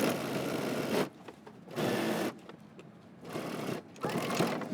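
A home sewing machine stitches a 5/8-inch seam on a jacket, starting with a back stitch at the center back. It runs in three loud bursts of whirring with quiet pauses between them, close up, and nobody speaks.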